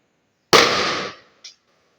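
One loud firecracker goes off during a family Christmas celebration: a sharp burst that fades over about three quarters of a second, then a small second pop, close by with nothing else around it.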